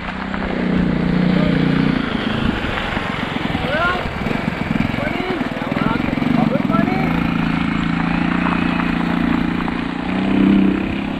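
A motorcycle engine runs on a dry riverside trail during a group ride along the Ilaya River, giving a steady, loud, low drone with small rises in revs. People talk over it.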